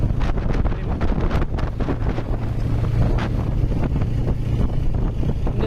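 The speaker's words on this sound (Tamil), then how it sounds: "ஃபுல்லாகவே சில்லுன்னு காற்று வருது" Cool wind gusts across Chembarambakkam lake, buffeting the microphone in a constant loud roar with irregular sharp gusts and a low rumble beneath, no voices heard.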